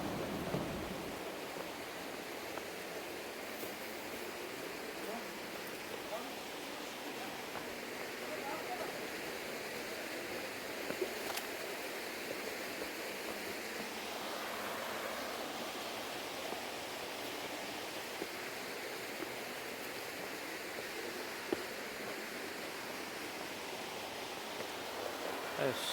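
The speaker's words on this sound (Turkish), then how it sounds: "Buradan şelaleyi görebilirsiniz." A waterfall in the Ballıkayalar canyon in Gebze gives a soft, steady, distant rush of falling water that carries on for the whole stretch, with a few faint ticks now and then.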